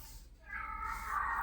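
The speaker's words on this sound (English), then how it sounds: "There's my cat singing for the gods again" A cat meows loudly, a drawn-out, rising, operatic call. It follows a brief quiet moment and is close and clear.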